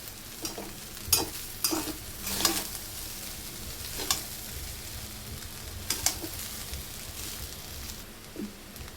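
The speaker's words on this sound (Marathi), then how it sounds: "पाच मिनिटं आपण भाताला परतून घेतलेला आहे" Vegetable fried rice is stirred and fried in a large wok: a continuous close sizzle broken by scraping spatula strokes, with no talking.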